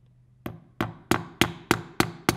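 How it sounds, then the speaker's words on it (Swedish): Seven sharp hammer blows struck with a poor-quality hammer, evenly spaced about a third of a second apart, each a loud close knock with a short ringing tail, alone without talk. "Fasen vilken dålig hammare."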